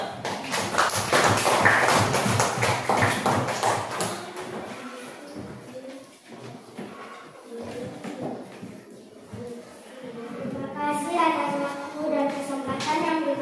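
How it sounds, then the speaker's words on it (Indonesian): A classroom of children claps for a group about to report their discussion, a burst of loud, close clapping in the first few seconds that dies away, with a voice and teacher's talk following. "Mari kita berikan aplaus dulu."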